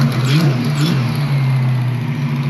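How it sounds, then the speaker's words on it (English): A 1988 Ford Mustang GT 5.0 engine idles and revs up briefly, with a rough, puffing rumble from an exhaust leak, close by with no talking. "There is an exhaust leak over here."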